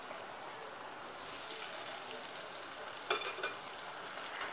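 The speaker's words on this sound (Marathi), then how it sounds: "सुरुवातीला गरम करून घ्यायचं तूप किंवा तेल आणि नंतर मग स्लो फ्लेमवरती छान असं तळून घ्यायचे" Jujube-sized rice flour balls frying in ghee or oil on a low flame, a steady gentle sizzle throughout that builds a little after the first second, with a brief louder crackle near the three-second mark, heard alone and fairly quiet.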